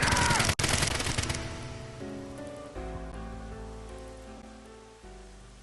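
Soldiers open fire in a video game, a dense burst of rapid shots at the start that gives way to a fading ringing tail.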